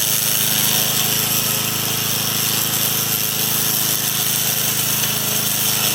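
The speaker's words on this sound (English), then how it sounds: "With the Koham off-road tank mower, tedious mowing work becomes easy and efficient" A Koham remote control off-road tank mower runs steadily, giving a loud, constant mechanical drone with a buzzing, rattling edge that stays unbroken throughout, with no voices.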